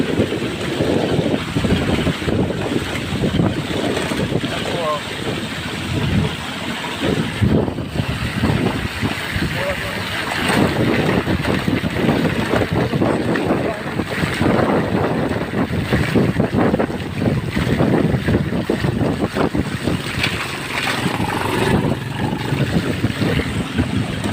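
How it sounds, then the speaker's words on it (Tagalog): Constant roaring wind buffets the microphone while heavy rain hisses in the background during flooding in Sariaya, Quezon, a dense, unbroken wash of noise with no voices. "Ngayon po, lakas po ng ulan, hangin o."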